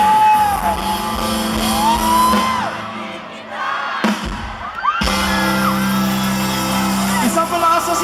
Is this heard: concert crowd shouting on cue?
yes